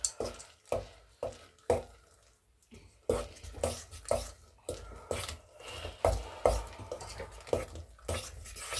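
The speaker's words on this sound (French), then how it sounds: "tu mélanges vite dans la fourchette" Chocolate banana muffin batter with chocolate chips beaten quickly with a fork in a bowl, rapid rhythmic scraping strokes in bursts, briefly pausing then resuming, close and clear.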